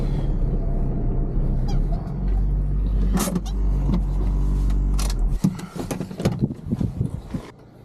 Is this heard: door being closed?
no